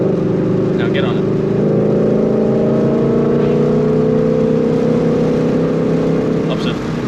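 A Ford Shelby GT500 Mustang accelerates with paddle-shift upshifts, its loud engine note rising in pitch in smooth steady sweeps, close and continuous, with a few brief sharp sounds near the start and end.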